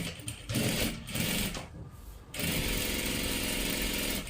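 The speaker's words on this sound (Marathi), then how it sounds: "आता इथून आपल्याला ही शिलाई करायला सुरुवात करायचं" A sewing machine runs close by while stitching salwar suit fabric, buzzing in several short bursts broken by brief pauses, then a longer continuous run of stitching to the end.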